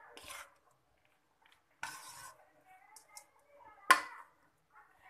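Garlic chitranna mixed in a pan with a spoon, heard as three short scraping strokes against the metal with quiet pauses between them, close by.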